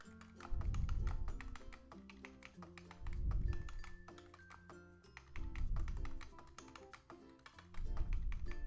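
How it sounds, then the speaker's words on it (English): Fingers typing on a computer keyboard during a typing exercise, a fast continuous run of crisp key taps with brief pauses, close and fairly quiet, with soft music underneath and no talking. "now we can start typing over again"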